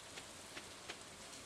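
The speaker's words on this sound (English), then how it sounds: "right now everything's raining, so like I'm assuming most people are gonna be home instead of out and about since it's pouring rain" Steady pouring rain in the farming game Stardew Valley, a soft continuous hiss of falling drops with a few faint patters, fairly quiet and heard alone.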